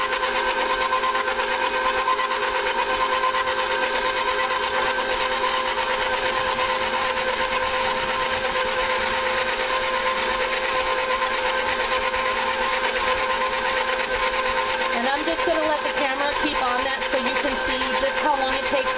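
A stand mixer with a paddle churns thick coconut and peanut butter dough in a home kitchen, giving a continuous loud motor whir with a steady grinding texture that holds for the whole stretch, unaccompanied by talk.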